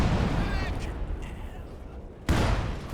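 Artillery barrage in Company of Heroes 2, a 2v2 multiplayer match, with rolling gunfire and shell bursts loud and close, a hush mid-clip, then a sudden heavy impact near the end.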